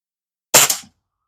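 A single sharp crack from a Norica Titan break-barrel air rifle, close and loud against silence, with a brief mechanical thump right after it.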